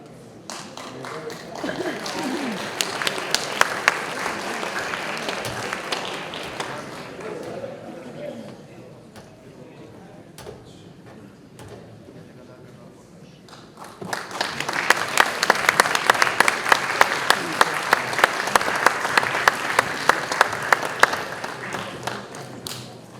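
Loud, sustained audience applause at a concert band competition as a youth philharmonic band from Honduras takes the stage, swelling strongly in a second burst after a quieter stretch, with scattered voices in the crowd.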